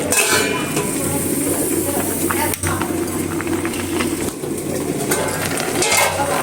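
A pot of freshly cooked rice is lifted off a stove, with metallic clinks and scrapes of the pan against the burner over a steady background hiss, and a voice speaking now and then.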